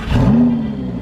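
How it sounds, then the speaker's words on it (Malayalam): A Lamborghini Gallardo with a dual exhaust system fires up, a loud, close engine roar surging briefly and settling into a deep rumble. "ഇതാണ് ലംബോർഗിനി ഗയാഡോയുടെ എക്സോസ്റ്റ് നോട്ട്."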